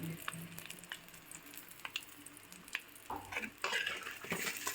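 Eggs fry in a curry in a pan, a faint sizzle with scattered clicks and scraping stirs that grow busier toward the end.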